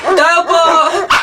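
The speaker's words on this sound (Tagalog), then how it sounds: "Kapag daw tumatahol yung aso sa gabi" A dog barks at night, a few loud close yelping barks in quick succession with a brief pause before a final bark.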